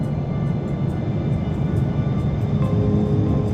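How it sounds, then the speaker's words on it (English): Steady engine rumble of an airliner taxiing toward the runway in the Infinite Flight simulator before a delayed departure, a continuous low drone with a faint whine above it, no voices. "Sriwijaya Air Flight 182 is finally taxiing towards the runway."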